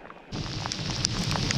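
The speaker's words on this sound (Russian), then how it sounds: "Мало того, что поливает ливень" Heavy rain pours down during a rainy fishing trip by a river near an old Komi village, a steady broadband hiss with scattered drop patters, close and continuous, no voices.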